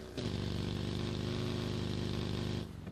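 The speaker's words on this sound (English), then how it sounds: "you hear a car?" A car engine in the battle royale game PUBG drones steadily for about two and a half seconds, a fairly loud, even motor hum with no voices, starting and stopping abruptly.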